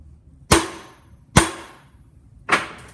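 A hammer drives a drift to stake a nut on a Land Cruiser transfer case, giving three sharp metallic strikes spaced about a second apart, each ringing briefly and decaying, loud and close with no talking.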